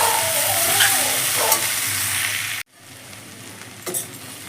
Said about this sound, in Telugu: ఉట్టి బెండకాయనే వేసి మంచిగా పెన్నం పైన వేయించుకోవాలి